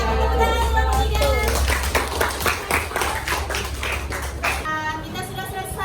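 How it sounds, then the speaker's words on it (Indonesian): Classroom clapping from students applauding a student group after their presentation, a burst of many hands lasting several seconds over a low steady hum, then tapering off. "Tepuk tangan kelompok 3"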